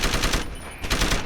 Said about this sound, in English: Let's try it with the machine gun.